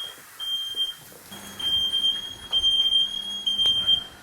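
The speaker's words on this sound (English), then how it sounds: "Fire alarm. Had to happen." A kitchen smoke alarm sounds in a series of short, shrill, piercing beeps in a repeating pattern, fairly close and loud over quiet room tone.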